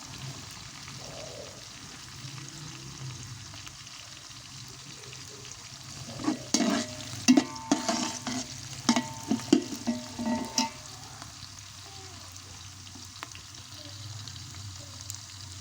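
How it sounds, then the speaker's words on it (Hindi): Half a kilo of onions frying in half a kilo of ghee for chicken biryani, a soft steady sizzle that turns into a cluster of louder stirring scrapes and clatters midway before settling again. "प्याज हमारे फ्राई होने लगे हैं।"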